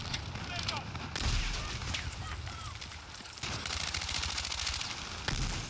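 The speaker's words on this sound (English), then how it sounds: "oh god, that's a frag." Battlefield 6 Breakthrough battle with a frag grenade blast and sustained gunfire, a dense chaotic mix of rapid shots and booms running throughout, with voices talking over the combat.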